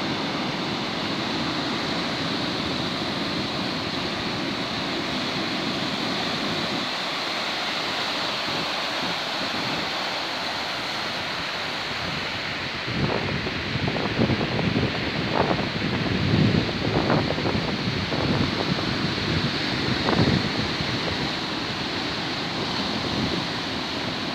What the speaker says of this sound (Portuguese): Está a maré cheia. Está um mar picado.